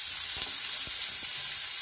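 Onions fry in a pan until well browned for a veg and egg puff filling, a close, steady hiss of sizzling oil with a few faint stirring taps across a short stretch, no talk.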